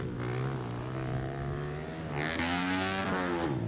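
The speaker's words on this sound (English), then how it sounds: "Bit of a panic rev, nails it sweet" A 110cc motocross bike engine revs in a sudden high-pitched whine at a freestyle competition, a sustained buzzing note that climbs and surges louder in its second half, heard alone without talk.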